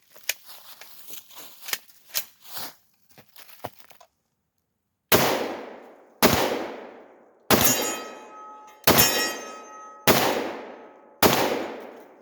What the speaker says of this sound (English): All right, so we're shooting a factory Glock 10 millimeter.